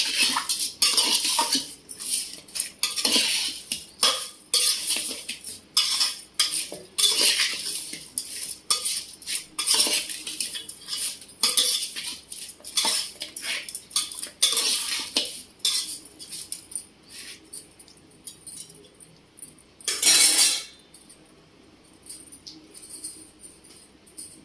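A metal spoon stirs chicken pieces with turmeric, salt and ginger-garlic paste in a cooking pot for gongura chicken, giving repeated close clinks and scrapes in an irregular rhythm, with one louder scrape near the end.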